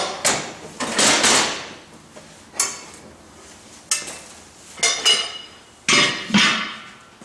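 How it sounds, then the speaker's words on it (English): Fire pot being lifted out of a home-built portable forge, a series of loud metallic clanks and scraping knocks, about six separate bursts spread irregularly, close by and with no talking. "If I take out the fire pot"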